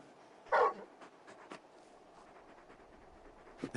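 Torgal, the giant wolf-dog companion in Final Fantasy XVI, gives a short, fairly loud whimpering whine near the start, followed by a few faint soft sounds and a brief sound at the end, in an otherwise quiet in-game setting.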